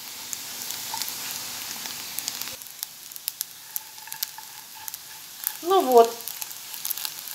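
Crab sticks cut into thin strips sizzle steadily in a frying pan over fairly high heat for a salad, a close continuous crackle that quiets partway through, with a brief spoken remark near the start.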